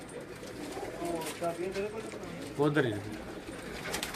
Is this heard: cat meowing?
no